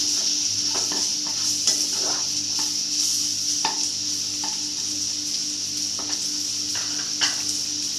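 Chopped onions sizzling in a pan on a gas stove, a steady hiss under repeated scrapes and taps of a spoon stirring, close and fairly loud.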